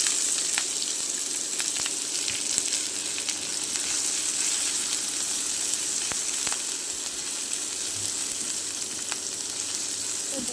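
Chopped onion and garlic fry in hot oil with dried chilli and cumin, giving a steady, even hiss of sizzling with faint ticks and no talk.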